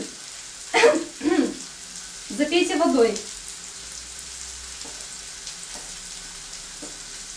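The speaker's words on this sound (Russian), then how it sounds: "Продолжаем жарить." Chopped onions fry in a pan with a soft, steady sizzle that runs underneath throughout, while a voice speaks briefly over it early on.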